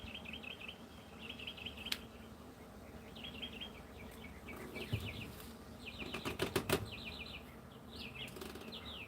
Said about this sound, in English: I don't think anybody's going to listen to the birds,